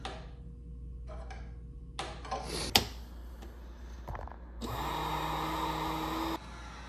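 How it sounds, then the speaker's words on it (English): A heat gun switches on and blows a steady, loud rushing hiss for about two seconds to dry a wooden Cherokee war bow stave. Scattered clicks and handling knocks come before it, and the blast cuts off abruptly. "I'm going to use a heat gun to try to cook some more moisture out of it"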